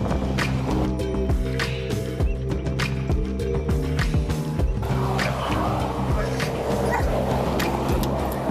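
Police drug-sniffing dog barking repeatedly in sharp, close yips and barks during a roadside search, with car sounds and faint voices in the background.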